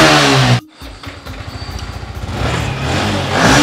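A Yamaha R15 version 4 motorcycle engine revs loudly, cuts out briefly, then pulses back up through a series of quick throttle blips before climbing into a strong sustained rev, heard up close.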